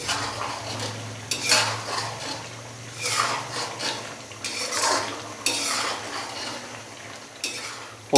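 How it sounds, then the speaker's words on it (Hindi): Beef sautéing in cooking oil in a karahi, with repeated scraping stirs and clinks of a spoon against the metal pan over a low, steady sizzle, close and moderately loud with no talking. "कुकिंग ऑयल डालने के बाद अभी हम इसको थोड़ा सा भून लेंगे मज़ीद 4 से 5 मिनट के लिए"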